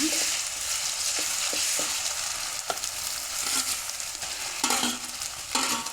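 Garlic and ginger paste frying with onions in a pan for an Odia mutton curry, a steady close sizzle broken by stirring scrapes and small bursts, with no talking.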